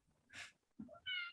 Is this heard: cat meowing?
yes